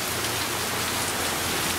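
Steady, heavy rain pattering densely on a surface in Río San Juan, a continuous hiss with no voices.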